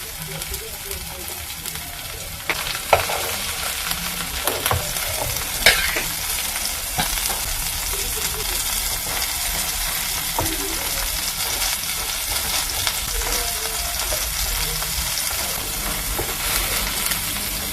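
Bread fries in a greased pan for a vegetable toast, with constant sizzling and occasional spoon scrapes and taps against the pan, and a voice talking intermittently.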